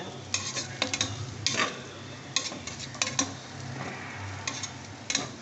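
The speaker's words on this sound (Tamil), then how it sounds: "நல்லா கோல்டன் ப்ரௌன் வர அளவுக்கு வதக்கிக்கோங்க பச்சை மிளகா காரத்துக்கு தகுந்த மாதிரி சேர்த்துக்கோங்க" Onions and green chillies sauté for a samba rice chicken biryani. A low sizzle runs under repeated metallic clinks and scrapes of a spoon against the pot.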